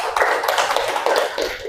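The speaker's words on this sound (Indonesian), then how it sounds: "tepuk tangan buat Mbak Kamila." Schoolchildren in an elementary classroom clap for a classmate, a brief burst of rhythmic hand claps close by, fairly loud and without talking.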